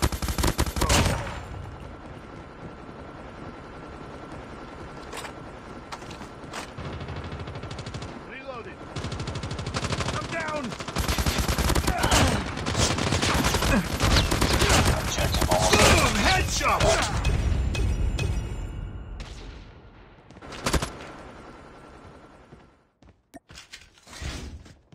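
Call of Duty gunfire crackles through a loud battle, bursts of automatic rifle shots and sharp single reports layered over a dense roar of combat, easing off near the end with a few last isolated bangs.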